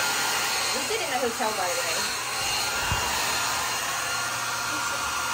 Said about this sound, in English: I'm drying my socks with this little hair dryer